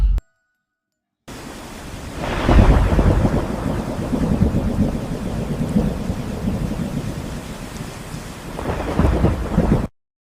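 Thunder rumbles over steady heavy rain in a stormy forest-hotel setting at night, a sustained loud wash with a strong rolling crack near the start and another swell toward the end, no voices.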